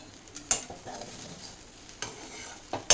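Vegetable rice being stirred with salt in a pan, a soft scraping stir with faint sizzling and a few sharp utensil clicks against the pan, close and fairly quiet with no talk.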